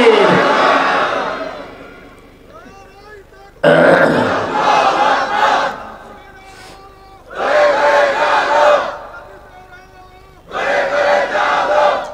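A large crowd at a Bengali Islamic waz gathering in Comilla roars the takbir in unison, three or four loud sustained chant bursts separated by short pauses, with a lone leading voice calling before the first response.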